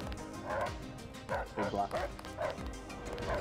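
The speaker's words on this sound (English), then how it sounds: "Oh my god, dogs." Dogs bark and yip in the video game Deus Ex, a few sharp, close barks in quick bursts heard under someone talking.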